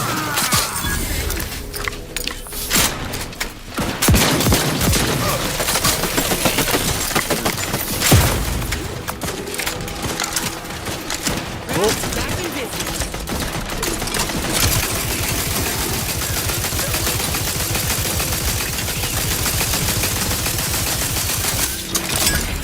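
Sustained gunfire from a weapon in The Outer Worlds 2, loud rapid bursts and volleys running nearly continuously with a few booms and mechanical clatter, no voices.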